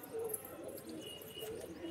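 A pigeon at an open loft coos softly, a few low, faint calls heard against steady outdoor background noise.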